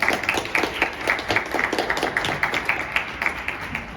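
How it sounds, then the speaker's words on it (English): A modest audience at a student presidential speech event claps after the speeches, the individual claps audible and uneven, moderately loud, with no talking. "So let's give them one more round of applause."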